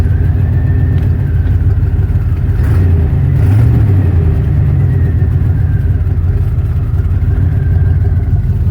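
Worn-out old high-mileage truck with its original engine and transmission, revving hard through a leaky exhaust: a loud, steady, close-up engine roar with a rough low rumble that swells briefly mid-way.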